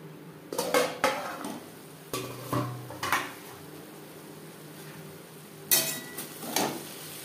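Metal cookware clatters as a lid is set on a cooking pot of prawns and taro stolons: several sharp clanks around the one-second mark, more at two to three seconds, then another cluster near six seconds, close and fairly loud with quiet gaps.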